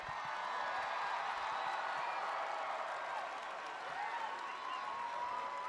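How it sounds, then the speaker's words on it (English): A crowd at a high school graduation ceremony applauds the graduating class, a dense, sustained wash of clapping and cheering heard from a distance in a large space. "A nice round of applause."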